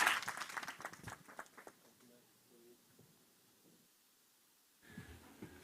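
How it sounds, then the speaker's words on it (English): A short burst of applause at a game industry conference talk fades quickly into near silence, followed by a faint return of noise and talk. "a big round of applause for Mitsu."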